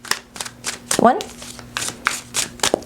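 A deck of tarot cards is shuffled in quick, close riffling bursts, about ten short papery flutters in a steady rhythm, with a brief spoken word partway through.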